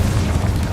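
An Incendio fire spell cast in the video game Hogwarts Legacy: a brief, dense, roaring burst with heavy low rumble, loud and steady across its short length, with no talk.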